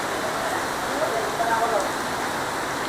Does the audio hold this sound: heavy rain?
yes